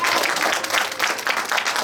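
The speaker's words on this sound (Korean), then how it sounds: "박수 드립니다." An audience at a humanities lecture at a cultural centre hall in Daejeon claps for the lecturer, dense and sustained applause filling the room at close range.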